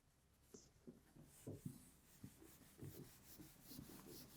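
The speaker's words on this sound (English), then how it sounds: "let me erase this real quick" Marker-board eraser rubbing across a whiteboard during an Arabic lesson, faint repeated scrubbing strokes in an uneven rhythm, quiet and with no talking.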